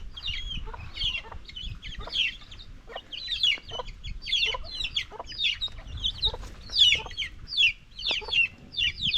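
A mother hen clucks steadily with her chicks on a small backyard farm, her short, repeated, fairly loud calls arriving in quick bursts, with no talking.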